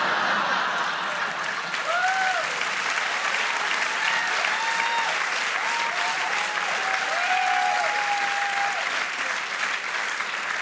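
Audience applause at a Pride comedy show, dense sustained clapping filling the room at constant loudness, with scattered whoops and voices rising briefly over it.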